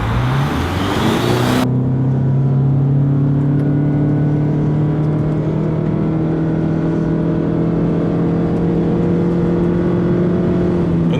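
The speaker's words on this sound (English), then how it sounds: "I'm just going to floor it" A 2015 Lexus NX 300 Hybrid engine drones loudly under full-throttle acceleration, its pitch climbing steadily and smoothly, close up, with no talking.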